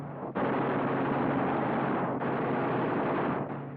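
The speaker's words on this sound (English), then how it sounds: "Cyclic rate of fire, 800 rounds a minute. You've got 8 guns, 106 bullets a second." Eight wing-mounted machine guns of a P-47 Thunderbolt fighter fire in a loud, dense sustained roar, with two long bursts broken by brief gaps and no talk over them.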